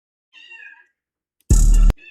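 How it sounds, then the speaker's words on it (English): A cat meows indoors: a soft, drawn-out meow, then after a pause a much louder, sharp, brief cry close to the microphone, with no talking. "I hear your cat, Robert."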